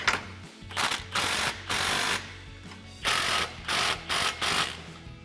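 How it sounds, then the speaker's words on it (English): Socket wrench ratcheting in repeated bursts while tightening exhaust clamps on a RAM 1500 with a Flowmaster Outlaw dual exhaust, a 16mm socket on the clamp bolts, close and clear with short pauses between strokes. "grab your 16mm socket and fully tighten down your two clamps"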